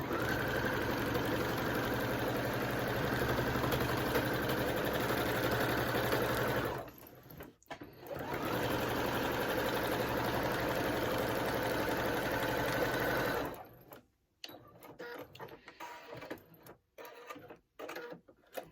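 A sewing machine stitches long cross-hatch quilting lines, a steady rapid mechanical whirr that runs for several seconds, pauses briefly, resumes, then stops into scattered clicks and handling.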